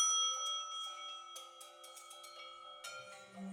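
A bright chiming bell sound effect rings out and sustains, then a second chime strikes near the end, clean and fairly quiet.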